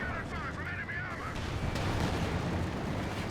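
Tank cannon fire from a Firefly against Panzers and Stugs in a 4v4 Company of Heroes 2 match on Port of Hamburg: dense, continuous rumbling blasts and battle noise, steady and loud throughout, with a siren-like wavering tone early on.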